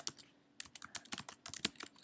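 Close, quiet typing on a computer keyboard, a quick irregular patter of crisp key clicks with short pauses between bursts, no voices.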